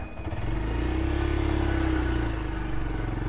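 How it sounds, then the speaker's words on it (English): A small Honda Grom minibike engine runs steadily on an off-road trail, a close, continuous mid-pitched drone with a slight rise and fall in revs. "Oh, it's a little Honda Grom."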